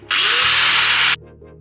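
A power tool trims rusted inner sill metal off a Porsche 928 in one loud, high-pitched whining burst of about a second before cutting out.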